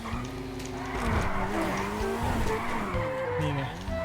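A tuned car in GTA V on a FiveM server brakes and skids. Continuous loud tire squeal and skidding mix with the shifting drone of the engine throughout.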